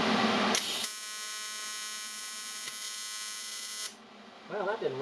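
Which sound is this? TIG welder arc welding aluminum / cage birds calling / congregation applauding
TIG welder arc welding aluminum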